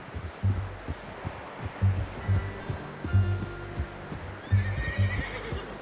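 A horse in Red Dead Redemption 2 clip-clops at a steady walking rhythm, hooves close and fairly loud over faint rustling ambience, with a brief whinny near the end.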